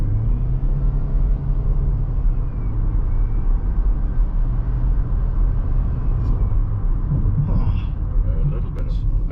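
Hybrid 2023 Haval Jolion 1.5 SUV accelerating hard, heard from inside the cabin as a steady low engine and road rumble that stays loud throughout, with brief faint voices near the end.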